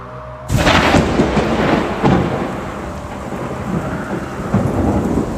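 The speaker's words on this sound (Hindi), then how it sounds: "जोरदार गड़गड़ाहट हुई।" A sudden crack of thunder breaks in at night, followed by rolling rumbles and a heavy, continuous downpour of rain, loud and close, with further booms toward the end.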